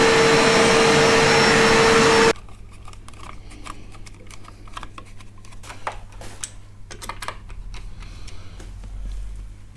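A vacuum cleaner runs loud and steady on household carpets for about two seconds, then cuts off, leaving a quiet room with small ticks, taps and low hum.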